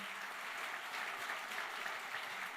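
A church congregation applauds the Lord during a service, a continuous, even patter of many hands clapping, faint and distant, with no break.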